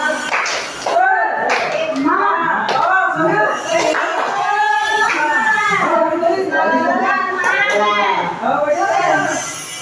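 A school class performs a rhythmic spirit-clapping chant, sharp group claps falling in patterned bursts between sung or shouted voices, loud and close throughout.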